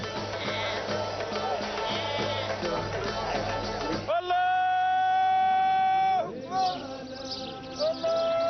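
Goats bleat at a crowded Moroccan livestock market ahead of Eid al-Adha, a loud sustained cry standing out over busy crowd noise, with a second shorter bleat following.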